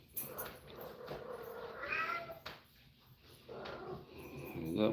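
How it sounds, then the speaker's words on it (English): Cats meow several times at irregular intervals, fairly close and moderately loud, with shuffling household noise in between. "Y'all hear my cats probably."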